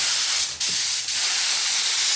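Paint spray gun set to a wide fan pattern hisses steadily onto a Jaguar MKII body panel, a continuous close airy spray with two short breaks in the flow.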